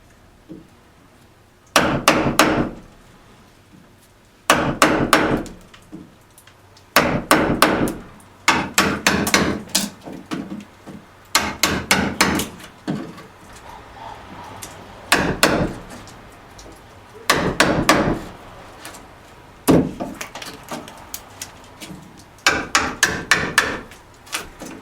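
Hammer and chisel cutting out wood while building a double-wide wall-mounted pachinko cabinet: loud, close, sharp strikes in quick bursts of several blows, separated by short pauses.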